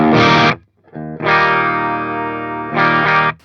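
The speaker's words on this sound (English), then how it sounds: "Let's just compare, like if we were to go between our clean and dirty sound on this module." Electric guitar through a Synergy Syn20IR preamp with OS module, a chord rung out clean, cut off, then sustained chords switching between clean and overdriven tones, loud and close.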